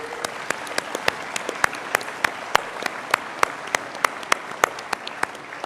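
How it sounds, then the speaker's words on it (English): Crowd applause at a senior graduation ceremony, steady clapping from a large audience with a few sharper claps standing out, continuous throughout. "please give another round of applause to our awesome band"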